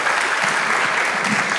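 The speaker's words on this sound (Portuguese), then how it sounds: "salva de palmas para os nossos astros" Steady applause from a studio audience at a Brazilian stage hypnosis show, dense and continuous with no pauses, a few faint voices mixed in.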